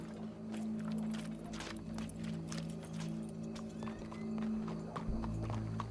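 Horse hooves clip-clop at a steady walking pace in Red Dead Redemption 2, the hoofbeats close and distinct over a low constant hum, with a deeper rumble entering near the end.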